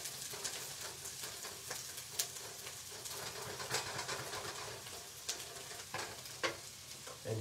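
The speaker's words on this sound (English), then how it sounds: "let me get that really sizzling." Salmon hash fries in oil in a pan, a continuous close sizzle and crackle with occasional scraping stirs, alone without talk.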